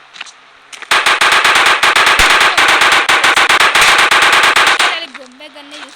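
Rapid automatic gunfire from a shooting video game, a loud sustained burst of evenly spaced shots lasting about four seconds before cutting off, followed by a faint tonal trail.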